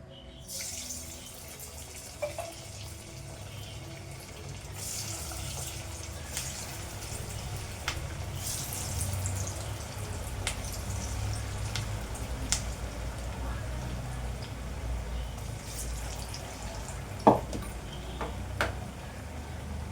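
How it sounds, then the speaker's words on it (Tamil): Marinated chicken frying in hot oil in a kadai for home-style chicken masala, a steady broadband sizzle running throughout with a brief sharper crackle near the end, fairly close and moderately loud. "இந்த சிக்கனை இதில் நல்லா ஃப்ரை ஆகட்டுங்க."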